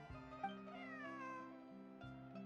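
A cat in Genshin Impact meows in a drawn-out, wavering call near the start, over steady game background music, with no talking.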